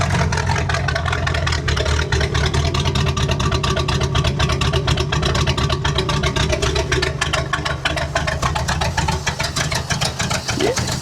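An Indian Scout motorcycle engine fitted with a Harley carburetor runs loud and close at a steady, slightly uneven idle, its rapid firing pulses flooding with fuel and faltering a little near the end.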